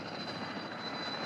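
A rescue helicopter hovers near a cliff in a children's cartoon, its engine a steady, even drone with a faint high whine running unbroken through the short stretch.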